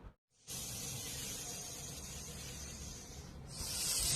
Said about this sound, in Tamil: பாம்பை பார்த்தா அலறி அடிச்சு ஓடுற காலத்தில் அதுகிட்ட போய் நின்று பேச்சுவார்த்தை நடத்திக்கிட்டு இருக்கிற பூனைய